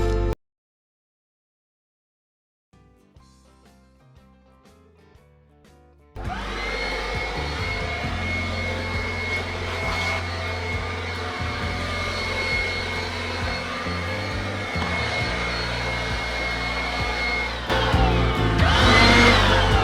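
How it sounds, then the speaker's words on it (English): A blower clearing dust and rubbish off a water tank at an off-grid campsite starts after a brief quiet stretch, then roars steadily and loudly at close range for the rest of the clip. "Blow all the dust and blow all the rubbish off the tank."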